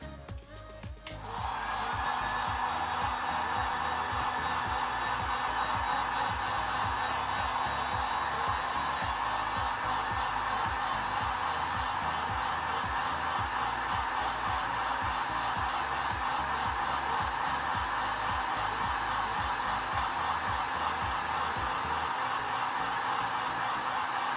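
A heat gun blows steadily and loudly for over twenty seconds, warming a tumbler cup coated with dyes, with a constant broadband roar and no talking.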